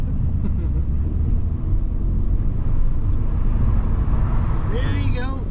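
A car driving a lap on a race track, running on Bridgestone all-season performance tires, gives a loud, steady engine and road roar that holds for the whole stretch, with a brief voice near the end.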